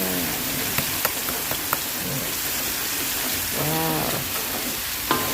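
Enoki mushrooms being stir-fried in a pan over a wood-fired stove, a steady hiss of frying with occasional sharp clicks and scrapes of a utensil, close and fairly loud, no speech.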